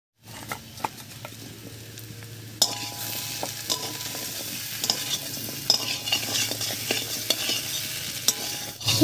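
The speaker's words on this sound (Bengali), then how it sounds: "মশলার সঙ্গে আলুটাকে খুব ভালো করে কষিয়ে নিয়েছি, এবার এর মধ্যে দেবো ভেজে রাখা শুটকি মাছটা।" Potatoes cooked down with spices and fried dried fish (shutki) stir-fry in a hot pan, giving a steady close sizzle with frequent spatula scrapes and clinks throughout.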